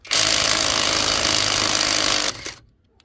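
Loud, close hammering rattle from a Bauer brushless 3/8 inch cordless impact wrench working rusted 22 mm nuts, one continuous burst of rapid impacts lasting about two seconds before it cuts off and trails into quiet.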